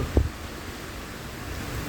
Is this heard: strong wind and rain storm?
yes